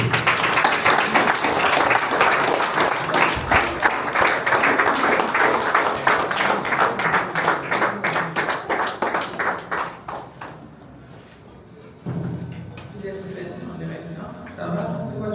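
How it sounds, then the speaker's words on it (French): Wedding guests clap in a long, steady round of applause that gradually thins into scattered claps and fades, followed by a quieter stretch of room noise with voices. "Sous vos applaudissements, bien sûr."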